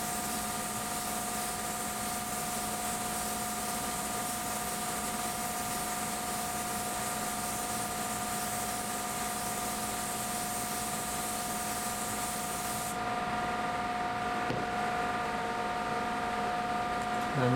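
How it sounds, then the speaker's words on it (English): Sealer sprays onto stave drum shells, inside and out, as a steady close hiss of broad noise with a fan-like hum beneath, and the hiss cuts off near the end. "I'm going to spray the inside and outside of that"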